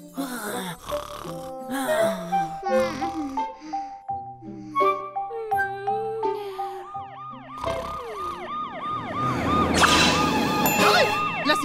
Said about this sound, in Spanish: ¡La sirena del camión de bomberos!